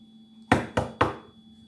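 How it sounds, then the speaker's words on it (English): Three sharp knocks on a door in quick succession, close and loud, with a slightly uneven rhythm and quiet background before and after. "he knocked on the door."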